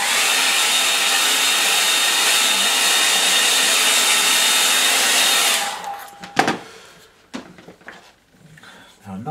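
A hair dryer drying a watercolour snow-scene painting, blowing loudly and steadily up close for several seconds before switching off, followed by a few clunks and faint handling sounds.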